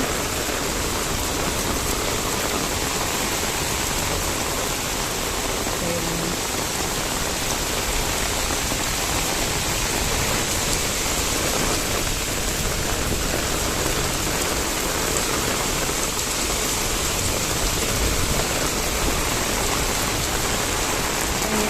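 Heavy rain pours steadily and loudly all around someone walking outdoors on a rainy day. The dense hiss is unbroken and drowns out everything else.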